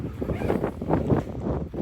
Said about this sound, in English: You see it's very windy today